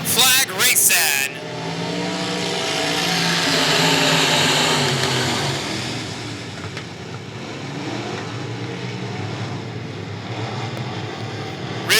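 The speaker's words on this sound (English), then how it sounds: "we are ready to go green flag racing." Race cars roar off at the green flag of the 2016 Texas Grand B Main, engines swelling loud then fading slightly as the pack passes and continues, with a brief sharp burst at the very start.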